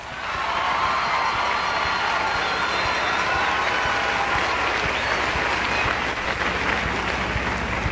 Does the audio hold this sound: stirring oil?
no